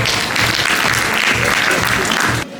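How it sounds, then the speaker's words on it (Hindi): An audience at a college New Year celebration claps for an invited guest, a dense burst of loud applause that cuts off near the end. "एक बार सर के लिए तालियां।"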